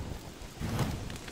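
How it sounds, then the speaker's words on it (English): Rain falls in a survival video game as a steady, soft hiss that swells briefly midway through, with no voices over it. "Why is it raining of all times?"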